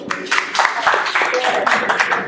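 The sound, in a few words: audience applause for Elsa Osorio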